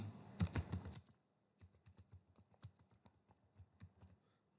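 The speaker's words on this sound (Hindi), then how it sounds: "आपने स्टार्ट में आना है और यहाँ पर टाइप करना है एडिट ग्रुप पॉलिसी" Close computer keyboard typing into the Windows Start search box: a dense burst of clattering keys, then a steady run of lighter individual keystrokes, with no talking.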